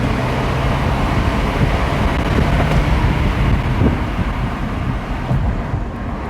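A BMW X4 drives with its windows down and the transmission in manual mode, a loud, steady rumble of engine and exhaust mixed with rushing wind and road noise from inside the cabin, with no talking.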